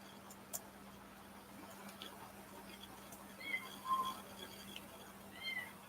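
A pet cat named Sapphire meowing in a home, a few faint, short high-pitched calls spread across a quiet room with light background hum.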